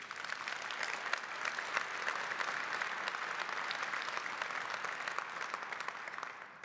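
An audience at a keynote opening session applauds, a steady, dense clapping from a large crowd that keeps an even level from start to finish.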